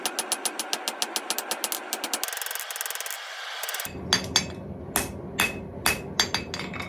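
Steel puukko knife blank hammer-forged and upset, a rapid even run of ringing hammer blows on the anvil, a brief grinding pause, then heavier, slower, irregular strikes, loud and close with no talking.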